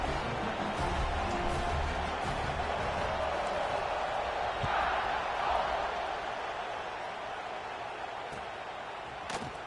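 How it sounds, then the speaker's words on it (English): Stadium crowd noise from the College Football 26 video game, a steady, loud roar of cheering that holds throughout with a slight swell midway, heard at a distance across the whole stands. "this crowd is feeling themselves after that last drive"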